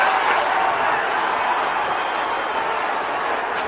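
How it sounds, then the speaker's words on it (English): A stadium crowd at a Green Bay Packers versus Denver Broncos NFL game roars in a loud, steady, continuous wash of noise that fills the whole stretch. "crowd is roaring."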